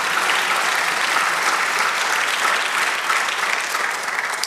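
A church congregation breaks into loud, sustained applause in praise of God during a sermon, a thick, unbroken wash of clapping from many hands that holds steady throughout.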